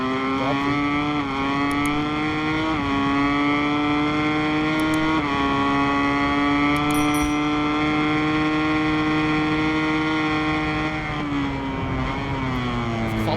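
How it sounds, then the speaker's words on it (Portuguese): Motorcycle engine in MotoGP 23 racing game, revving hard near its limit on a long straight, a loud continuous high-pitched whine with rising pitch sweeps at each gear change and no talk over it. "Incrível, o motor da moto vai no limite."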